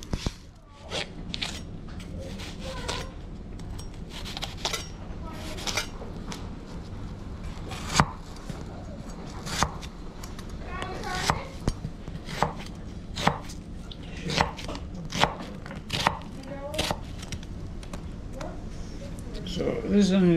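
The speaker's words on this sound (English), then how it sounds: "after I dice the onion" A knife dices an onion on a cutting board in rapid, uneven chops, crisp taps repeating close by over a quiet background, with a voice talking alongside.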